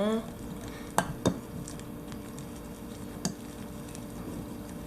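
A spoon stirs a homemade rabbit treat mixture in a bowl, giving soft squishy scrapes with a few sharp clinks against the bowl's side over a low background hum.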